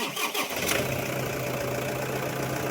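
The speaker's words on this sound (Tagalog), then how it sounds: "after natin ayusin yung alternator, try natin start ngayon" Car engine starting after an alternator repair: a brief starter crank gives way to a steady, close engine idle with an even hum that continues to the end, with no talking.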